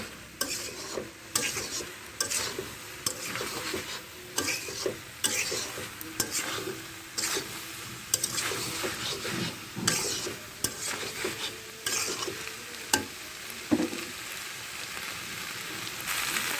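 Soy chunks and vegetables for a dish with potato, greens and raw banana, stir-fried in a pan, giving a steady sizzle broken by repeated scraping and stirring strokes throughout, with no talk.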